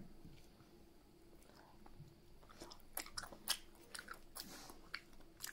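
Someone bites into a crunchy peanut butter snack with salted peanuts inside, crisp irregular crunches picking up after a quiet start and repeating close to the ear, with no talking.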